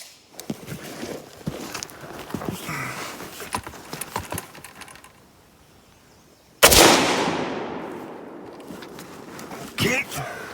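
An FAL rifle with its gas system being adjusted fires a single loud, sharp shot outdoors, its report ringing and decaying over several seconds, preceded by handling clatter and followed by a metallic clack.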